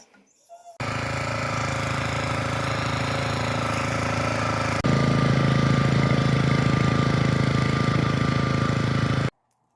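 A John Deere snowblower fitted with tire chains runs steadily at close range on a snowy day, a continuous rattling, knocking engine drone that grows louder partway through before cutting off abruptly near the end.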